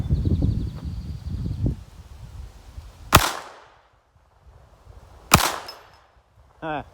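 A Ruger LCP II .22LR pistol fires two sharp, isolated shots a couple of seconds apart at an outdoor steel target range, each a loud close crack with a short ringing tail, following some rustling handling noise.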